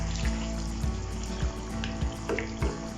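Chicken cooking in a pan as spices are stirred in, a continuous hiss with repeated sharp scraping and clinking strokes at an irregular rhythm, close up, with no talking.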